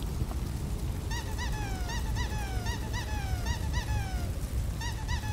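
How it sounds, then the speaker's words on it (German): A squeaky rubber duck clicked repeatedly in the game Book of Demons, bright little squeaks in quick clusters of two and three, some stretched into sliding squeals, over a steady rushing background of ambient game noise. "Wenn man die Quietsche-Ente anklickt, dann quietscht die auch wirklich."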